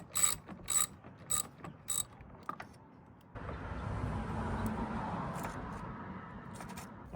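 Clicks and ratcheting from a wrench loosening the negative battery terminal on a 2011-20 Toyota Sienna, four sharp metallic bursts, then a steady louder rustling, scraping noise close by with no talk.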